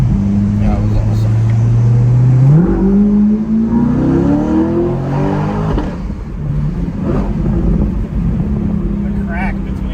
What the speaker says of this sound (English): The crack between shifts.